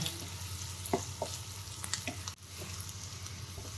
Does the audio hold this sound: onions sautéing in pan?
yes